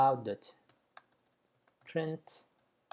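Java code being typed on a computer keyboard: scattered light key clicks fall between two short bursts of speech, close and fairly quiet.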